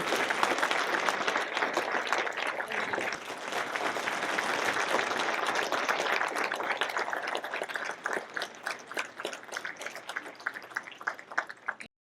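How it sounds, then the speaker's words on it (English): A long, loud round of audience applause at a 20 Under 40 awards event swells evenly for several seconds, then thins into scattered, sparser claps before fading out. "So please join me in a round of applause for Marin Solis"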